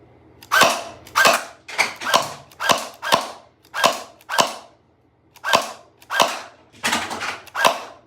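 A Nerf Pro Gelfire gel blaster firing, a series of about a dozen sharp, loud snapping shots in a loose irregular rhythm, close to the microphone with short gaps between them and no speech.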